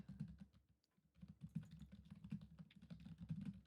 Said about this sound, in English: Sorry, we're vigorously typing.